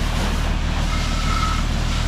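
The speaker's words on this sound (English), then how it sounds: "we're pressure washing the shit truck with my fire truck" A fire truck's pump drives water for pressure washing a truck, a loud, constant mechanical drone with a low engine hum and a faint whine partway through, heard alone without voices.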